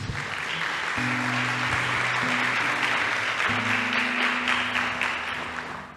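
A church congregation applauds steadily and loudly for several seconds, with sustained low organ or keyboard chords held beneath the clapping.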